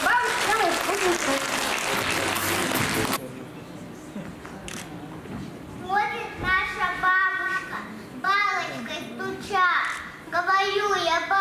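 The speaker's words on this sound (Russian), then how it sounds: "Встречайте громкие аплодисменты." Loud, dense applause fills a kindergarten hall at a children's performance for about three seconds and then stops abruptly. Children's voices follow, speaking or reciting in short bursts.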